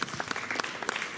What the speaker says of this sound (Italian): Un applauso per Monna Lisa,